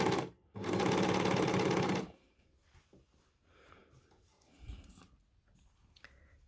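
An overlocker serger stitching a T-shirt runs in one loud, fast burst of about a second and a half near the start, then stops, leaving quiet handling of fabric.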